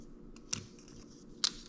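A long piece of craft wire for crocheted flower stems is cut with two sharp, quiet snips about a second apart, with a faint room hush and no talking.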